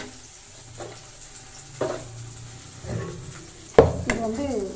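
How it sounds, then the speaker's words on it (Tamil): Shallots, garlic and dried chillies frying in oil, with a quiet, steady sizzle under repeated stirring, clinks of a utensil on the pan and a louder scrape near the end. "சிறு வெங்காயம், பூண்டு, காய்ந்த மிளகாய் போட்டு எண்ணெயில் நல்லா வறுத்துணுங்க."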